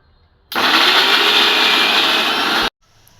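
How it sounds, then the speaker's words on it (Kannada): A mixer grinder whirs loudly for about two seconds grinding a paste for chana masala, starting abruptly and cutting off sharply, close by with quiet before and after. "ಈಗ ಇದನ್ನ ರುಬ್ಕೊಳತ್ತೆ ನೋಡ್ರಿ."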